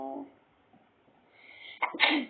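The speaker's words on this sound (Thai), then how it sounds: "อืมจามเลยอะ" A single sneeze bursts out sharply near the end, preceded by a quiet inhale, close and fairly soft overall, after a brief moment of voice at the start.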